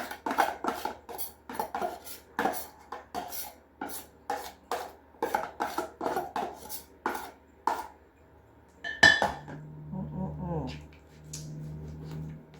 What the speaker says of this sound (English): But I want to cut this up a little bit.